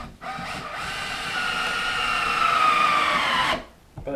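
A power drill whines at a steady, rising pitch for about three seconds, boring through a bottom panel near a wall, close and loud, then cuts off into a brief clatter.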